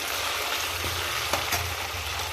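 Steady frying sizzle from a pan while making Rayalaseema-style uggani with puffed rice, green chillies and tomato. A dense continuous crackle with a low hum underneath and a few soft stirring clinks.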